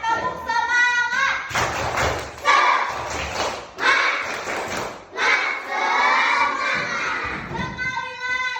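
A group of schoolchildren chants and claps together in a loud, rhythmic classroom spirit routine, voices shouting in unison with bursts of clapping throughout.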